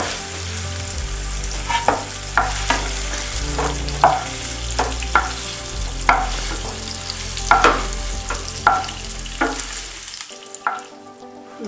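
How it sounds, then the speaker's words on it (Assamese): Cinnamon, cloves and a cardamom pod sizzle in hot oil with a steady crackling fry, punctuated by repeated stirring scrapes, before the sound drops away near the end. "গৰম তেলত মই অকণমান ডালচেনি, লং আৰু এটা ইলাচি দি দিলোঁ"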